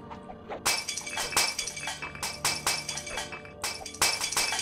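Glass panes shattering repeatedly in the Aliens vs. Predator video game, a rapid series of sharp crashes and tinkling shards, loud and close with no talk.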